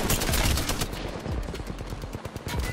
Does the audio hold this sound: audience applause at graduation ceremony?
no